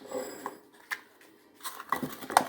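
Frozen bananas drop into a bowl in a home kitchen, making a few sparse, hard knocks and clatters, faint at first and then a small cluster of sharper impacts near the end.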